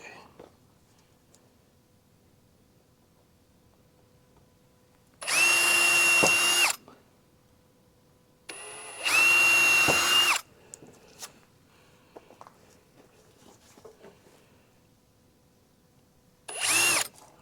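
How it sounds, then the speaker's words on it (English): A power drill pre-drilling holes in wood whirs in three short bursts, two longer runs and a brief final spin, each loud and close with quiet pauses between. "pre-drill the holes here so I have less chance of it splitting."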